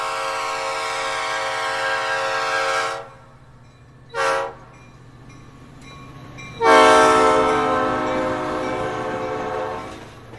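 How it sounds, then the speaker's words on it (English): A loud train horn blares in long sustained blasts over a low rumble, breaking off briefly and returning, suggesting a train passing close by. "As a moving object approaches a stationary observer, the frequency increases."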